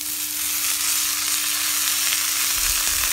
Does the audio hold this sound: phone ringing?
no